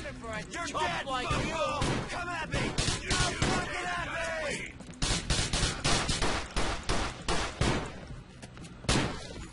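Rapid bursts of mini SMG gunfire in a video game, rounds striking a railing with a sharp, metallic, slap-like quality, dense and close, continuing almost throughout alongside ongoing game noise.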